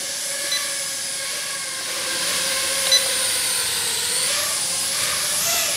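A Loolinn X26 ready-to-fly quadcopter drone hovers near the ground, its rotors giving a steady high whine and airy hiss that hold at an even loudness throughout.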